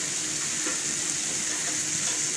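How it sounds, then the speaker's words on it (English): Ground spices, dhania powder among them, frying in a pan for achari methi baingan, giving a steady, close hiss of sizzling with a little stirring and no voices. "while the spices try to fry"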